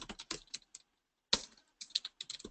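Bursts of typing on a computer keyboard while entering product notes into a template, close and clear, with a short pause in the middle and no talking.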